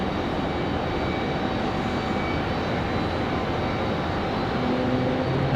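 UPS jet departing Raleigh Durham airport in the evening, a steady broadband engine roar heard from a distance, continuous and even throughout.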